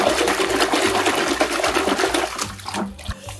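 A muddy toy hyena being washed under running water, with a steady splashing, trickling flow and a faint mechanical hum underneath, the stream breaking up briefly near the end.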